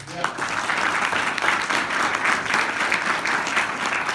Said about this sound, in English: can we give it one more round of applause for our testimonials?